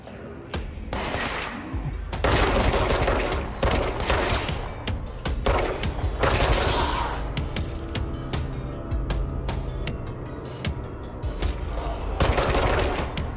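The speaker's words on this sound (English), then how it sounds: "Oh god, something's firing at me" Enemy gunfire crackles in bursts of shots and rattling fusillades in the video game Control, loud and close, with mechanical clicks between volleys across the whole stretch.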